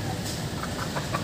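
A pair of wild junglefowl in the Gulf of Tonkin region calls in a short burst of clucking, close and fairly loud, with no talk over it.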